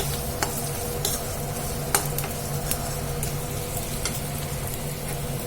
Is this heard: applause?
no